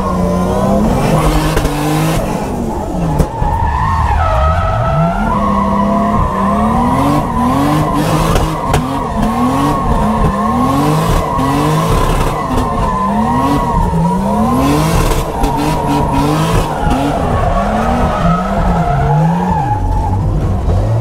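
A drift car with a faulty, misfiring engine revs hard and repeatedly, its tires skidding and squealing almost continuously. The near, loud sound rises and falls in steady cycles with no talk over it.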